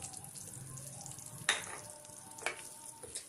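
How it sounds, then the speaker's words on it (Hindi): Ghee heating in a karahi with salt added, giving a soft steady sizzle with a few sharper clinks or spatters standing out near the middle and end. "सबसे पहले मैं घी गर्म करती हूँ"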